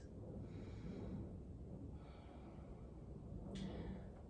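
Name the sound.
mindful breathing during yoga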